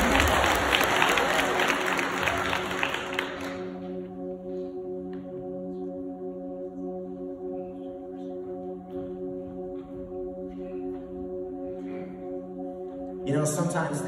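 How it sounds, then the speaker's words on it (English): Audience applause at a Christian school winter showcase, a dense burst of clapping and some cheering for the first three and a half seconds, then it dies away into a steady hum, with a brief swell of noise near the end. "Would you guys give a round of applause to Jarrell over here?"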